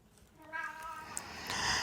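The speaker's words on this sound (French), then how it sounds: "Vous entendez le chat, je vais le sortir." Somewhere in a house, a cat lets out a single faint, drawn-out meow that sounds distant and quiet against low room noise.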